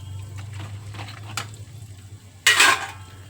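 Prawns dropped into a pan and stirred, light scraping and clinking of a utensil against metal over a low hum, then a brief loud hiss-like sizzle as they hit the heat.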